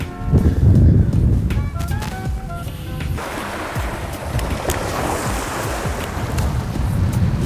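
Wind gusting across a lake on a cold day, a steady broad rush that fills the whole stretch, loud at first and then settling into constant buffeting against the microphone.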